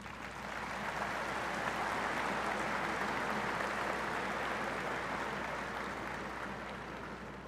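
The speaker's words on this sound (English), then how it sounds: "Please recognize them with a round of applause." Sustained applause from a large audience at a college commencement ceremony, a steady wash of many hands clapping for several seconds, distant and evenly spread through a big hall, with no talking over it.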